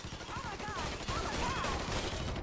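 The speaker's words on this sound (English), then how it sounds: "Oh, now they're gonna start shooting." Gunfire in the Mafia 3 video game: a dense, continuous burst of rapid shots, loud and close, mixed with background game noise and a voice speaking.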